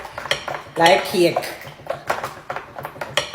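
A whisk clatters against a glass or bowl as an egg is beaten into a Jamaican drink, a quick run of clinking metal strokes heard up close beneath steady talking.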